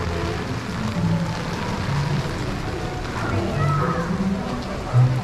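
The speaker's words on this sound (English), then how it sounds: "Main Street in the rain." Rain falls steadily on Main Street at Disney, a continuous soft patter and hiss on pavement and surfaces, with crowd murmur and a few nearby voices mixed beneath it.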